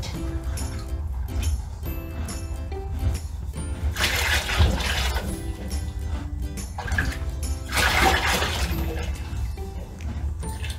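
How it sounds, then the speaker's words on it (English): Hot water tipped from one bucket into another outdoors in winter during horse tail washing, a splashing, gushing pour that swells twice over a steady low rumble. "I'm going to put some hot water from this bucket into there"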